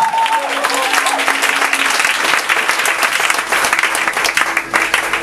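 A church congregation applauding in acclaim, steady dense clapping filling the room for several seconds while a voice and sustained tones carry on beneath it.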